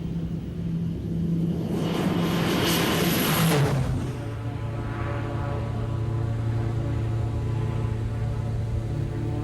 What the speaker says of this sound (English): This is the Basler DC-3 T-67, a rebuilt, beefed-up, turbo-powered version of the Dakota.